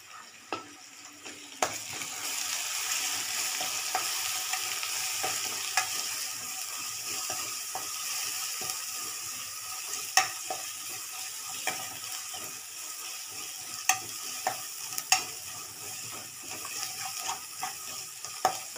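Steady oil sizzle from onions, ginger and garlic sautéing in a pan for dhal subji, with occasional clicks and scrapes of stirring; no one speaks.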